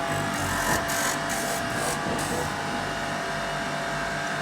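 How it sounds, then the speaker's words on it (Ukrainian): Cylinder head surface grinder with its spindle and grinding stone spinning, coolant emulsion flowing, a steady whirring hum with a hissing wash, constant and moderately close, no voices. "запускаємо шпиндель, камінь закрутився, даємо подачу емульсії, повітря вийде"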